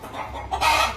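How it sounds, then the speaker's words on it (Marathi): Hens roosting up on perches in a village poultry coop give a quick, close burst of clucking that rises louder in the last half second. "आता वरती कोंबड्या आपल्या बसलेल्या आहेत"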